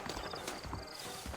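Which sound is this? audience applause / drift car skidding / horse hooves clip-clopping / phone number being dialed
horse hooves clip-clopping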